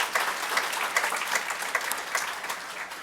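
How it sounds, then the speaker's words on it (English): Audience applause at a book launch, a brisk, dense round of clapping from a room full of people that holds steady for a few seconds without any voices. "Let's give him a big round of applause."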